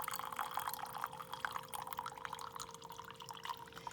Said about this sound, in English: Okay, we're pouring this in.